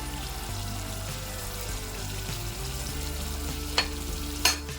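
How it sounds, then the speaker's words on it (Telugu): Ginger garlic paste sizzles steadily in a hot pan for a chicken curry, a continuous frying hiss with a low hum, plus a couple of brief clinks near the end; no voices. "అల్లం వెల్లుల్లి పేస్ట్ యాడ్ చేస్తున్నాం"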